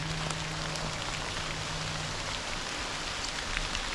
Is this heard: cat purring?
no